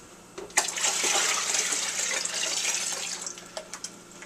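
Water pours from a measuring cup into a homemade horchata rice mixture, a soft continuous splashing gush that starts abruptly, runs a few seconds and tapers off with a few drips at the end.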